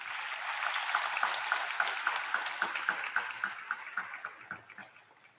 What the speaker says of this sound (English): Graduates, please give your parents, grandparents, and family members a warm round of applause in appreciation for their support.